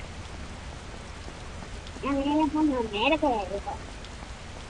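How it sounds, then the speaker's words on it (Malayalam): Steady rain falls in an Indian GTA-style video game, a constant soft hiss that continues under a man's brief spoken phrase in the middle. "ഇന്ന് നല്ല മഴയാ പോകുന്നത്."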